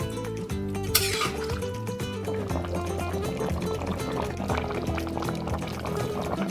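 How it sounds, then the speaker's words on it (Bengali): Lukewarm water is poured into a simmering jackfruit and potato curry, a liquid filling sound heard beneath steady background music. "হালকা গরম জল পরিমাণ মতো দিয়ে দিচ্ছি।"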